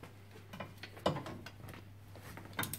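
A ratchet loosening bolts on a BMW E46/E36 rear differential: a few scattered, light mechanical clicks and short ratcheting bursts over a steady low hum, one sharper click standing out.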